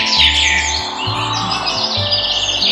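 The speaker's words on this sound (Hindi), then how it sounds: "चिड़पी पेड़ की एक शाखा पर बैठकर गा रही थी।" A small bird sings as a story sound effect, with continuous bright chirps and trills running over soft, low background music tones.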